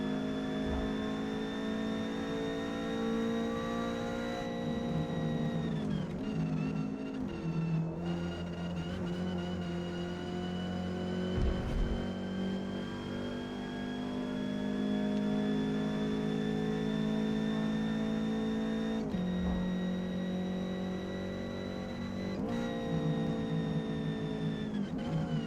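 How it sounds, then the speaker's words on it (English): A Ford Cortina racing at Grand Oak Raceway in Forza Motorsport, its engine holding a loud, steady drone down a straight, with brief dips at gear changes before the pitch climbs again. "And now it's just a drag race down this straight section here."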